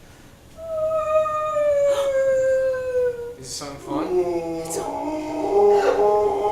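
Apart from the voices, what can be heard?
whale call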